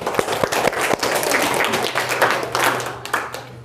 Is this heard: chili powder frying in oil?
no